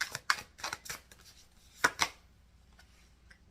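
Tarot cards being shuffled by hand: several quick, crisp riffling bursts in the first second, two more sharp flurries near the middle, then softer scattered card rustles, close and alone with no talking.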